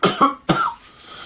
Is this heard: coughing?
yes